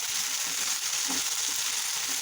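Jujube fruit and chopped dried chili fry in oil for pickle, giving a dense, even sizzle that stays loud and constant, with faint stirring underneath.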